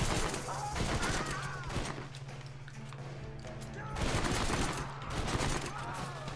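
Pistol fire in the video game Red Dead Redemption, sharp bursts of shots clustered in two loud volleys with a sustained tone between them, while someone talks over the action.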